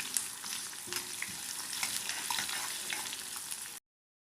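Shallots, garlic and coriander roast in a hot pan with a steady, close crackling sizzle and the occasional scrape of stirring, with no voices, before cutting off abruptly.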